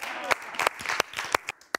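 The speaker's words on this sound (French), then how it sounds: "Ok, on peut l'applaudir." Sparse, uneven clapping for Thomas's performance at the Star Academy, a few distinct hand claps standing out over a voice and background sound.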